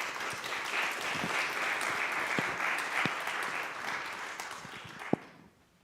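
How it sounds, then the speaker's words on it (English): A crowd claps steadily for a birthday guest being welcomed, a loud sustained round of applause with a few sharp knocks, then it tapers off and stops abruptly. "Round of applause."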